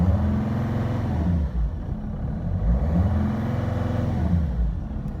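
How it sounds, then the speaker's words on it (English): A Mercedes Sprinter van engine with a faulty turbo actuator, running in limp mode, revs up and down in a steady low rumble, rising and falling a couple of times close by with no talking. "So I'm gonna try to go rev the vehicle up a little bit."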